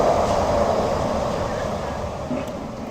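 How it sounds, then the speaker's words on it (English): The Disneyland monorail train passes close by with a loud, steady rumble and whine that fades only slightly over a few seconds. "Oh, monorail!"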